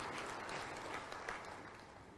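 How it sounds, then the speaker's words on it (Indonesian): Audience applause for a guest speaker at an Islamic talk event in Jambi province, Indonesia: a steady, dense wash of clapping from a crowd, moderately distant and fairly even throughout, with no speech over it. "Sekali lagi boleh berikan tepuk tangan yang meriah untuk narasumber kita pada hari ini."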